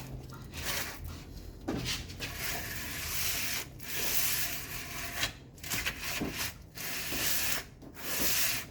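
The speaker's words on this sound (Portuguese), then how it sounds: "coloca a lixa aqui e aí começa com uma lixa grossa e depois vai afinando ela para fazer o acabamento" Coarse sandpaper is rubbed by hand over a Citroen C3 cylinder head in repeated back-and-forth strokes, a close, gritty scraping broken by short pauses.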